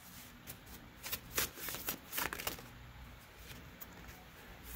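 A deck of photographic art cards made from photographs is shuffled by hand, with soft riffling bursts clustered in the middle and faint card slaps throughout, close and quiet with no talking.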